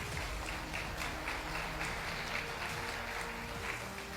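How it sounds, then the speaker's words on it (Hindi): Audience applause at a network marketing talk, a steady wash of clapping from a crowd filling the room, moderately loud and continuous with no talk over it. "मोदी केयर के लिए तालियां होनी चाहिए।"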